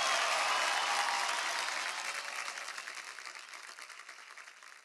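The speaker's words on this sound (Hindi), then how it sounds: "तालियां प्लीज।" Audience applause at a Bollywood music show honoring singers, a full burst of clapping at the start that gradually thins and quiets into scattered claps.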